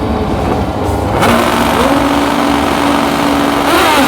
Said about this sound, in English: That's a beautiful Suzuki drag bike, GS powered, the Pro Stock style bodywork.